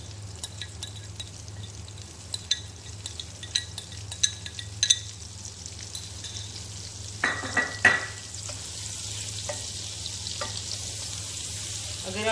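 Butter and garlic fry quietly in a pan as a white sauce base, a low steady sizzle with scattered clinks and scrapes of a utensil, a louder rattle near the middle, no voices.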